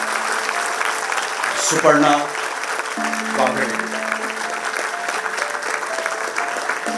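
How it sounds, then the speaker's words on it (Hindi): An audience at a World Cancer Day event in Mumbai applauds steadily, a moderate, even wash of clapping running throughout while someone speaks over it through a loudspeaker. "मैं चाहूंगा जोरदार तालियां बजाएं"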